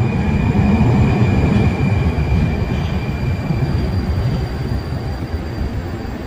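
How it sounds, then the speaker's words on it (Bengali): A modern Moscow metro train running, loud continuous rumble and rattle of wheels on track with a faint high whine, heard from inside the car with no talk. "এই লাইনের যে মেট্রো রেকগুলো চলছে, এইগুলো কিন্তু একদম খুব মডার্ন"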